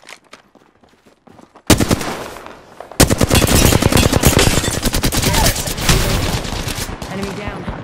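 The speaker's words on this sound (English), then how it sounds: "Hostile spotted. Opening fire on the enemy." Rapid automatic gunfire in the battle royale video game Apex Legends erupts in loud, dense bursts after a quiet start and continues almost without pause.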